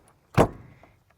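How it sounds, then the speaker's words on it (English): Cabin door of a small airplane shut during a preflight check, one close, solid thud with a brief rattle trailing off, and nothing else around it. "And then I shut the cabin door"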